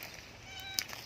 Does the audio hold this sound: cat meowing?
yes